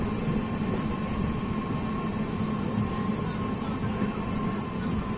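The Machilipatnam–Bidar SF Express (train 12749), running with LHB coaches, rolls into a station with a steady, even rumble and rail noise that holds at a constant level.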